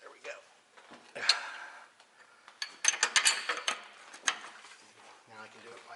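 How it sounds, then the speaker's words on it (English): Two wrenches turn a bolt on a Ford Explorer strut of a 2004 Ford Explorer 4X4, heard as clustered metallic clicks and ratcheting ticks, some close and sharp, with quiet pauses between. "now the bolt's starting to turn"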